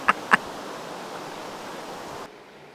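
Tarra Falls, a waterfall in Victoria's Gippsland region, gives a steady rushing roar after two quick knocks at the start, then drops abruptly to a quieter hiss near the end; no one speaks.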